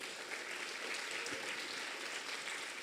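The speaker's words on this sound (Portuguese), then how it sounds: "Quem aplaude a Deus aqui dentro?" A church congregation applauds during a worship service, a steady, dense wash of clapping that is faint and distant throughout, with no talking over it.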